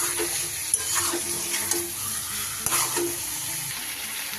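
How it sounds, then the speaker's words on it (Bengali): Chicken masala for Kashmiri chicken kanti being stirred and fried in a pan, giving a steady close sizzle with scraping stir strokes throughout and no talking. "খুব ভালো করে 10 থেকে 15 মিনিট আমি এভাবে কিন্তু কষিয়ে নেব।"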